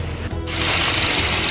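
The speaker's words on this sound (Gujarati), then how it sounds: "બોલ્ટ ખુલે છે બધા ચેમ્બરના." A power tool loosening the bolts on a chamber starts up after a brief pause and holds a loud, close, steady mechanical whirring to the end.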